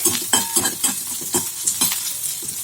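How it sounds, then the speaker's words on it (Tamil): Pirandai (adamant creeper) sautéing in a pan on low heat, a loud close sizzle with rapid rhythmic spatula scrapes and stirs through the whole stretch. "கொஞ்சம் பிரண்டை மட்டும் கொஞ்சம் நல்லா வதக்கணும்"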